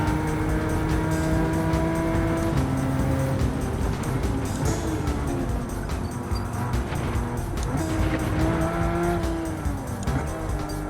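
In a Gran Turismo 7 race, a 992 Turbo S on worn front tires squeals repeatedly through corners over a constant engine roar, with rising and falling pitch glides as it shifts gears.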